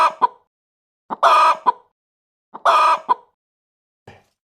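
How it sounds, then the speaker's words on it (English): A chicken clucking in short bursts, two longer squawking calls separated by brief clucks and a soft final cluck, close and clear against silence. "It's a chicken."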